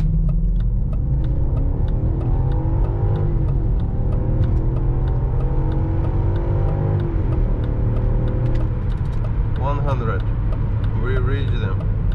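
A stock 286 hp BMW X5 4.4i E53 V8 pulls hard at full throttle on a highway, its engine note climbing steadily and loudly in pitch throughout, with a brief shift-like dip near the end.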